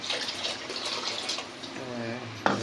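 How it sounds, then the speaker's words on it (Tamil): Water pours steadily into a rice and maida flour batter for chicken pasta, a close, continuous splashing stream that ends with a brief sharp knock, no talking over it. "ஒரு லிட்டர் தண்ணி சேர்த்துக்கிறேன்."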